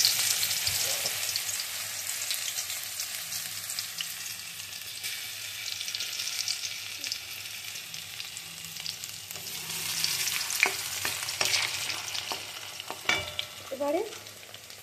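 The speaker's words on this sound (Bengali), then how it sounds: "তো কিছুটা ক্রাশ রসুন, এই যে এই তেলটা গরম হয়ে গেছে" Crushed garlic dropped into hot oil gives a continuous loud sizzle across the whole stretch, swelling at times, with occasional clicks and scrapes of a spoon in the pan, nearby and without speech.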